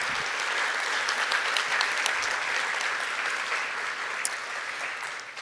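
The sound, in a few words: audience applause for Dr. Regina Stanbeck-Stroud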